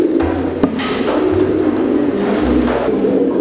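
Young pigeons released into an open flight loft coo in low, repeated rounded calls, near and fairly loud, over a steady background hum with a single knock partway through.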